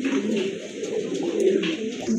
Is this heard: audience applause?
no